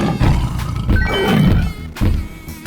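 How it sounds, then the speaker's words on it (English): A tiger roars in a 3D animal slide video game, a loud growling roar with a second burst near the end, mixed with game music and effects. "Tiger."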